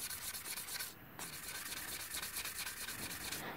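A Ford Courier front brake caliper part being sanded by hand with fine P800 wet and dry paper, close, continuous rubbing strokes with a brief pause near the start.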